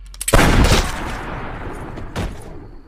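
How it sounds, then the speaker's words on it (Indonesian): Gunfire in a film scene as a man shoots a policeman: a loud, close blast with a rolling, reverberant tail, followed by a second, softer shot a moment later. "Flynn terpaksa menembak si polisi agar semua rencananya berjalan lancar"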